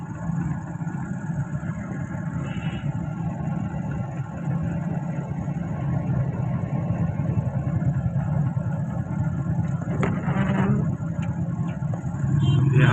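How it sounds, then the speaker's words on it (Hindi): Steady rumble of idling and creeping car engines in a rainy-day traffic jam on the Mansehra–Abbottabad road outside a hospital, a continuous dense drone with occasional revving and a few brief horn-like tones. "यहाँ तकरीबन दिन भर ट्रैफिक जाम होना एक मामूल बन गया है।"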